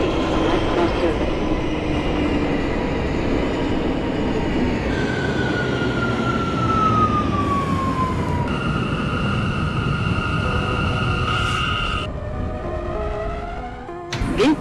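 Simulated M subway train running in the OpenBVE train simulator, with loud continuous rail rumble, wheel squeal, and shifting electric motor whines that rise and fall in pitch as the train runs.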